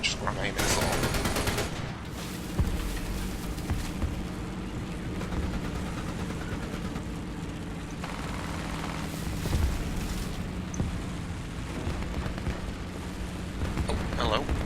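Tank cannon fire and explosions from the War Thunder tank battle boom loudly and repeatedly over a dense rumbling combat backdrop, with bursts of rapid gunfire layered throughout.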